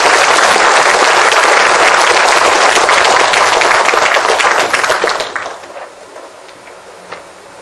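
An audience claps loudly in a dense, sustained burst to welcome a lecturer to a talk, then the applause thins and fades out over the last couple of seconds, leaving a few scattered claps.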